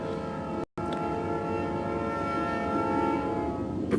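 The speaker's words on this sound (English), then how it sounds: "train decides to come by" A train passing by outdoors, a continuous low rumble with sustained tonal hum that builds slightly toward the end, moderately distant and unbroken.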